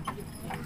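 Two faint hoof clops, spaced apart, over a low rumbling background, a horse walking while pulling a wagon at Upper Canada Village, Morrisburg, Ontario.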